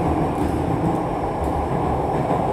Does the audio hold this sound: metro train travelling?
yes